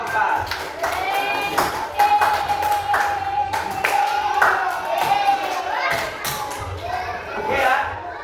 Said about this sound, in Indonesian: Kasih tepuk tangan buat kelompok 4.